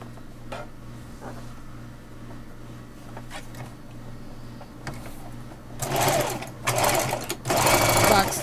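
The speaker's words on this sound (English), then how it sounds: "So I'm going to start by stitching 1/2 inch." Sewing machine stitching a half-inch seam on a tote bag: quiet ticks and hum at first, then loud rapid bursts of stitching in three runs near the end, with talk in between.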